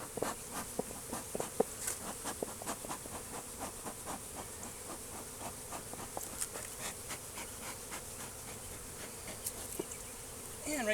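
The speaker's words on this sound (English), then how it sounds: "I got some bees." Agitated honeybees buzz at an opened hive with broken frames, a dense, steady swarm drone close to the microphone with many individual bees zipping past.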